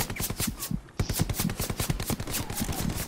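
Sustained machine gun fire in the World War II shooter Hell Let Loose on PS5, a loud rapid rattle of closely spaced shots hammering almost without pause for three seconds.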